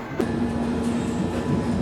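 London Underground train running on the line, a steady rumbling roar with faint rail hum, continuous and fairly loud throughout.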